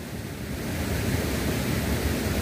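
Rushing water at a waterfall on a river where people fish for dourado in Minas Gerais, a steady, loud broadband roar filling the whole moment without voices.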